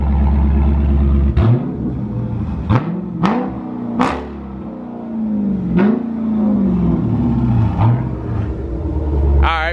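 A car engine idles loudly nearby, then is revved several times in sharp rising bursts that fall back to a deep rumbling idle, with a muscle car and a 2022 Kia Stinger present at the street meet.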